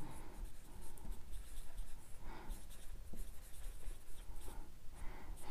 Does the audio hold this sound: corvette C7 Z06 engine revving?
no